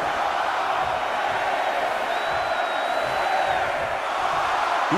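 A large arena crowd in the WWE 2K24 video game keeps up a steady, wide roar of cheering from a distance, with one faint whistle rising above it midway.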